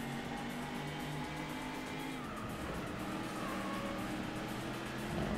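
A race car engine from the Ford Racing video game drones steadily at moderate loudness, a continuous buzzing whine with slight pitch shifts, heard alone.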